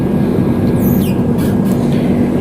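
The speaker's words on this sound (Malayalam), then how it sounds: "ഇത് ഇന്ത്യൻ റെയിൽവേൻ്റെ ട്രെയിൻ തന്നെയാണോ?" An Indian Railways train rolls past on the track along the Nashik to Ernakulam route, a loud, steady rumble with brief high wheel squeals drifting over it.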